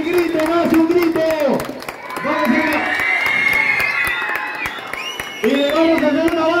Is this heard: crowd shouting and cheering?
yes